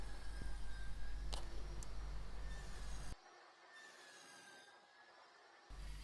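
A saw cuts wood for workbench stretchers on a DIY bench with a built-in table saw, a quiet continuous rasping drone that drops away briefly partway through, then resumes.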